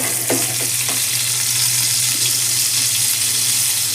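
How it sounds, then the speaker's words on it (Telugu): Chicken keema balls fry in hot oil in a pan, a loud, steady, close-up sizzle and bubbling throughout, with a few soft knocks of the pan early on. "ఆయిల్ మొత్తము చికెన్ కీమా బాల్స్కి కిందికి వెళ్ళిపోయి మంచిగా ఫ్రై అవుతాయి అన్నమాట"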